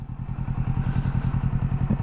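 A motorcycle engine chugs at low revs with a close, steady, rhythmic thumping pulse as the clutch reaches its bite point and the bike creeps forward, with no voices.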